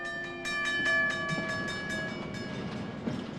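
A train runs along the rails as a radio drama sound effect, with steady rolling rumble, rhythmic clicks and a sustained horn-like tone across the first half, heard alone without any voices.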